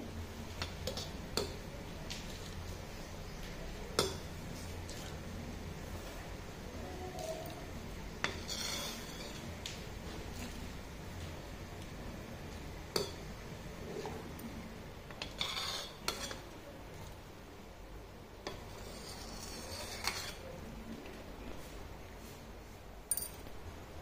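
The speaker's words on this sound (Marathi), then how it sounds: "मी हा फेस काढून घेते" A spoon taps and scrapes against a pot while foam is skimmed off boiling dal. The clicks are faint and scattered over a low, steady background.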